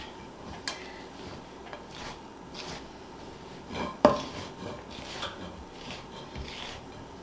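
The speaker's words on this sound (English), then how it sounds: "this is where I'm going to get my heavy wooden measuring spoon, because the measuring spatula just doesn't have enough oomph for me to be able to stir it" A heavy wooden measuring spoon stirs thick scone dough for cherry chocolate scones in a bowl, with soft scraping and dull knocks, one sharper clunk midway, and no talking.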